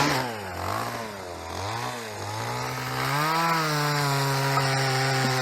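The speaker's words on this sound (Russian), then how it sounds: "Дядя Миша пилит дрова." A chainsaw drones close by, its engine pitch rising and falling as it cuts firewood in a village, continuous with no talking.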